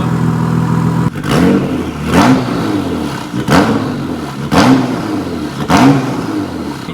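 Car engine after a motor swap revving up quickly to around 2,500 RPM, five sharp throttle blips in a row, each rising and falling back to idle, loud and close with no talking.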